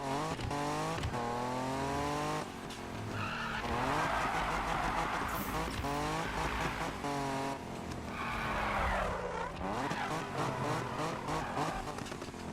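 A 1971 Nissan Skyline with a grip build doing a burnout in Need for Speed 2015, engine revving in rising and falling sweeps over loud sustained tire squeal and skidding, close and continuous.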